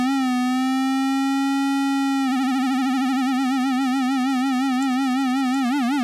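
An Arturia iSEM synth on iPad holds a bright buzzy tone, steady at first, then warbles in pitch as a sine-wave LFO takes over, the vibrato speeding up and deepening toward the end, with no voices.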